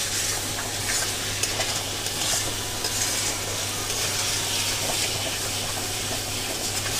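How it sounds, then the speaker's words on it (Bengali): Spice masala for a Bengali eel (baan maach) dish fries on a raised gas flame while being stirred, giving a loud, continuous close sizzle with faint scraping and no talking. "এইবার আমি একটু ফ্লেমটাকে বাড়িয়ে খুব ভালো করে কষে নেব।"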